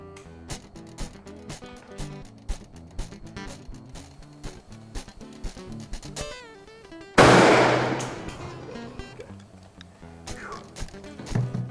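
A turkey shotgun fires one loud blast at a pattern target 40 yards away outdoors, the sharp report standing out between fainter clicks and handling noises before and after.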